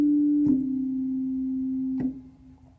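A steady, pure 8-foot drawbar organ tone from a Roland VR-09 synthesizer holds one sustained note at moderate volume, with two soft clicks partway through, then fades at the end.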